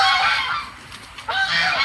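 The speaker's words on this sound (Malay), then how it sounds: "Kalau orang yang tak kenal, dia akan bising lah angsa ni." Several geese honk loudly and close by in a noisy burst, pause briefly, then start honking again.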